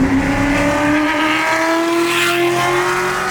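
A Shelby GT350 engine revs up in one smooth, loud rising pitch, close by and without speech.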